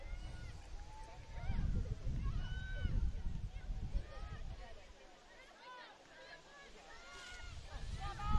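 Strong gusts buffet the microphone at an outdoor high school football game, South Medford at North Medford, a broad low rumble surging and easing over several seconds beneath a steady commentator's voice.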